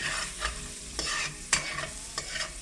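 Garlic frying in a hot pan for rougail saucisse gives a steady sizzle, with several scraping strokes of a spoon stirring it at close range.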